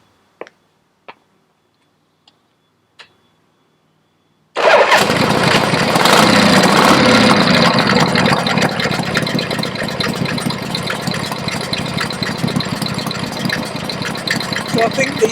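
A Shovelhead motorcycle engine, fitted with baffles, fires up after a few quiet clicks and settles into a loud, steady idle that continues to the end.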